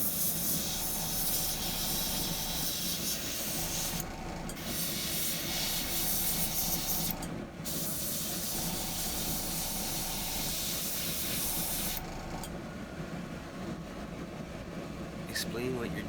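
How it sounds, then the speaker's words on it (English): An airbrush sprays white base paint onto a carved dragon, giving a steady, close hiss that runs almost unbroken, with brief gaps as the trigger releases. "I'm airbrushing. So right now I'm just adding a white base to the dragon."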